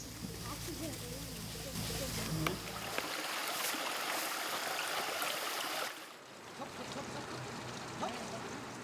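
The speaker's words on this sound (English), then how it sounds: "the elephants walk to the river to bathe" Elephants bathing in a river on a hot afternoon, with steady close rushing and splashing water throughout and a low rumble that drops away partway through.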